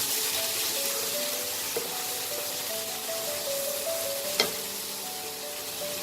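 Turmeric and spice masala sizzling steadily in a hot pan after a splash of water, a continuous close frying hiss with a couple of brief sharp crackles, no talk, while cooking butter chicken masala.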